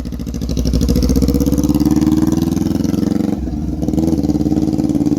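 A motorcycle with a straight-pipe exhaust idles and revs close by, a loud, rough, pulsing drone with a brief dip before it picks up again.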